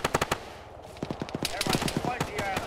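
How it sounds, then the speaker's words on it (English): Rapid automatic gunfire in the military video game Arma during a ShackTac session, a burst of sharp shots followed by further scattered and clustered shots, close and loud. "they're shooting at me now"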